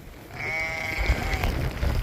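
A single lamb bleats once on a storm-damaged farm, a clear, drawn-out, wavering cry close by, followed by rustling and outdoor noise.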